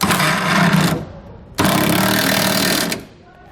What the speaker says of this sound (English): we also want to make sure we tighten down the eyelets here for our leaf springs as well